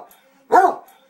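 A dog lets out a single sharp, close bark in a quiet room, with faint background sound before and after.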